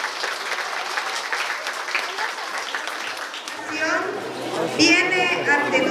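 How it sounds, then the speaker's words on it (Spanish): A crowd applauds a small child at a kindergarten graduation in Ameyaltepec, Guerrero, a dense sustained patter of clapping mixed with chatter, swelling toward the end as a voice begins over it. "Aplausos para el pequeño."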